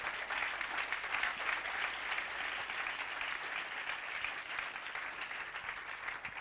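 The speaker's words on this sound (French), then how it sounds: "On va donner des acclamations au Seigneur." A church congregation claps and cheers in acclamation during a worship service, a dense, steady wash of applause filling the room for the whole stretch without letting up.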